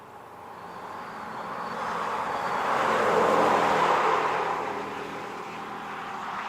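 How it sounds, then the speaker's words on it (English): A simulated V8 engine note played through the speakers of a Toyota Tundra while driving. A steady broadband hum swells gradually, peaks midway and then eases off slightly, continuous with no talk. "With our tailgate back up and our fake V8 sounds resumed"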